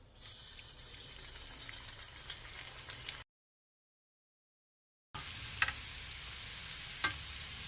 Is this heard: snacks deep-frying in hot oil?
yes